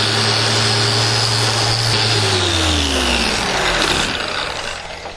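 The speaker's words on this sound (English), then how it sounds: "So I'm going to go ahead and just sand the whole coupling there." Power sander works over a steel coupling joining sections of a log handrail, a loud continuous motor whir with grinding texture and a falling pitch, then winding down at the end.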